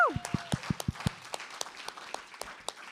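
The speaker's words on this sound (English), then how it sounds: "let's give another round of applause" Scattered, sparse clapping from a small audience after a faculty presentation, with a voice briefly heard at the start and individual claps popping irregularly at a modest level.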